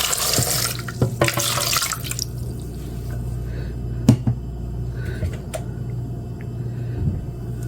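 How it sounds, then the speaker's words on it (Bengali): Water splashes into a blender jar holding red grapes for juice, a bright gushing pour for about two seconds, then scattered drips and small knocks over a low steady hum. "ব্লেন্ডারে একটু পানি দেব।"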